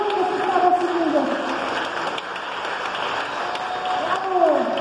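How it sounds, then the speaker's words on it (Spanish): Crowd applause at a tribute and award ceremony, a short dense burst of clapping mixed with a sustained background tone and some voices. "Un aplauso, porque ha apoyado también la educación."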